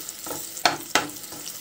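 Chopped onion hits a pan for white sauce pasta, giving short bursts of sizzling and scraping stirs spread over under two seconds, close and fairly loud.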